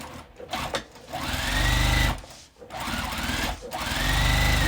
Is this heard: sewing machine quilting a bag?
yes